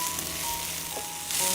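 Capsicum and black pepper sauté in a hot pan for a beef steak roll, giving a steady, close sizzle that continues evenly from start to end.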